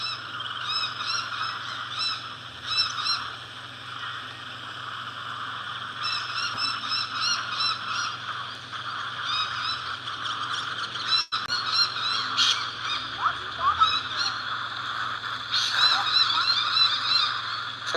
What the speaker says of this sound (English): That's what all the birds are going off about.